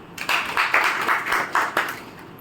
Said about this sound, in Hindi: वे इनके लिए ताली बजाओ